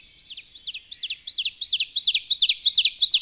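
An ovenbird's song rings out clearly with no other voices, its chanted 'teacher, teacher' phrases repeated about a dozen times, building in volume toward the end.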